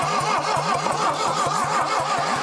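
An old Saab engine, abandoned for decades, cranks slowly and laboriously, its starter turning it over in a steady, loud, evenly spaced chugging rhythm without catching.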